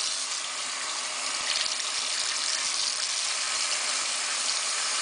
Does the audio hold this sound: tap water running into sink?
yes